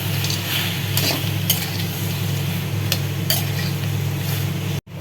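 A spoon stirs cubed tomatoes, onion, a few cashews and Kashmiri chilli in a pan, with scraping strokes over a constant low hiss, close and fairly loud.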